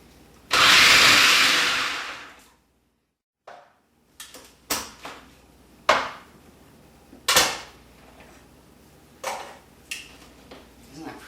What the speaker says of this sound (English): Now I'm going to shred the red.